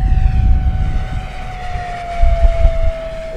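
FMS P-47 Razorback 980mm RC model warplane flying low and inverted down a runway at about half throttle: a steady, loud, close motor whine held throughout, its pitch sliding slowly down over wind rumble.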